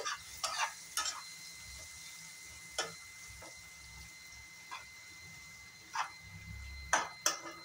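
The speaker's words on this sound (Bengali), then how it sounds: "এখন আমি পেঁয়াজটা লাল লাল করে ভেজে নিব" Onions fry in a pan while being cooked for a bhindi dish, a faint low sizzle broken by sharp clinks and scrapes of stirring at irregular intervals.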